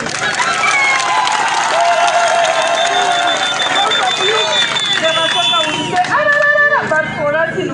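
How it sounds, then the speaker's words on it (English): Large outdoor crowd at a political rally in Kyegegwa, Uganda, claps and cheers loudly, with whistles and shouting voices over the dense clapping, all continuous and close. "clap very even louder for our president"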